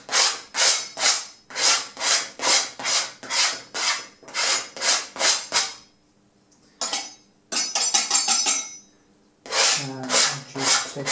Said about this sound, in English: So what I do now is just go over it and scrape it down a little bit.